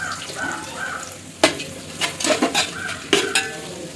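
Chopped onions hit hot Milma ghee in a pan for a mussel and prawn dish, sizzling steadily with several sharp scraping clatters of a spoon against the pan as they are stirred.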